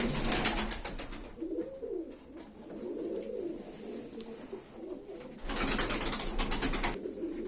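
Tumbler pigeons coo in soft, repeated rolling calls close by, with bursts of hissy flutter or wing noise near the start and again near the end.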